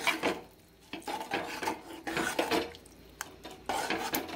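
A utensil stirs green chickpea amti curry in a metal pan, giving repeated scraping and clinking strokes in an uneven rhythm, close and fairly loud with no talking.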